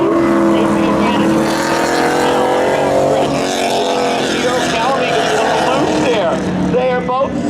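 Race cars roaring into turns 3 and 4 at an Independence Day thrill show spectator drag race, loud sustained engine drone with shifting pitch sweeps, under continuous excited commentary.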